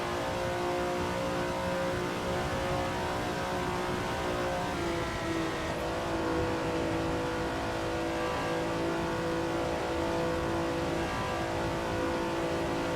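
A Ferrari race car engine in a 1967 Daytona Continental 24-hour racing game drones loudly and continuously at high revs, a sustained, slightly wavering roar with no speech.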